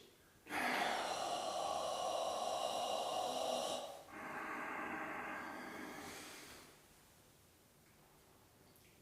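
A deep breathing exercise, with a slow, loud inhale followed by a long, audible exhale and a few seconds of near silence at the end; no speech.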